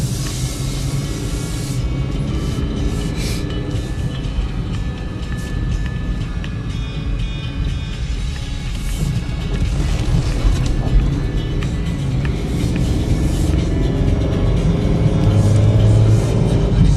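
A 2013 Chevy Equinox LT, a repairable salvage vehicle, drives along with a steady low engine and road rumble from inside the cabin, growing slightly louder toward the end, with no talk.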